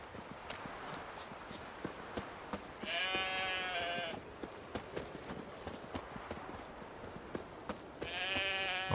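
Sheep bleat in The Witcher 3, two clear calls standing out over steady hoof clip-clop and outdoor game ambience, with no talking.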